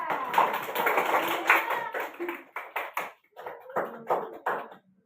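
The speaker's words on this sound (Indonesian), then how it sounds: "Tepuk tangan untuk Reza" Schoolchildren clap for a classmate, first in a dense burst, then breaking into scattered, uneven claps that fade out, close and moderately loud.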